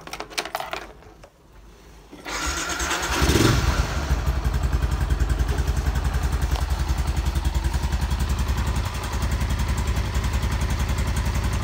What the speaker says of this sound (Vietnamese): Bây giờ mình nổ máy cho bạn nghe.